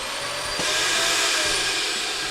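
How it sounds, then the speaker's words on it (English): A floor-mount central vacuum in a 2023 Forest River Surveyor 267RBSS travel trailer whirs loudly and steadily, a broad rushing hiss with a slight surge as it spins up, close and alone. "Little floor mount vacuum there, which is really nice."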